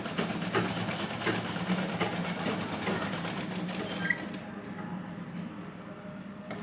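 A sewing machine runs a firm seam on a blouse, a close, steady mechanical whirr that continues evenly for about four seconds and then stops, leaving a quieter background.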